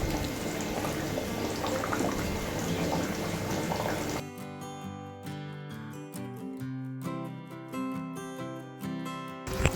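Steady bubbling and gurgling of Chettinad fish curry made with sankara fish simmering in a pot, continuous and close, with a softer, calmer stretch in the second half.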